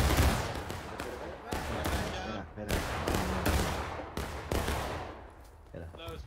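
Musket volleys in the Civil War game War of Rights crack out as a series of sharp gunshot bursts, some ragged and overlapping, followed by rolling echoes, with voices faintly underneath.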